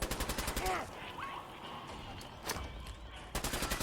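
Gunfire in Fallout 4 combat, with a run of rapid shots at the start and end and a single sharp blast in between, loud and close over a steady background of game ambience.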